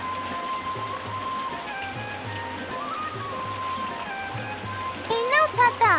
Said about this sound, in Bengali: সাথে সাথে বৃষ্টি শুরু হয়ে গেল।